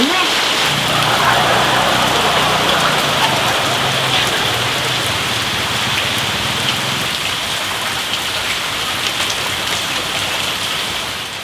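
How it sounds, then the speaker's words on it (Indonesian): Heavy rain pours down in a dense, steady hiss of drops hitting surfaces, loud and close, easing only slightly toward the end with no clear voices over it. "Hujan, ayo urang hujanan."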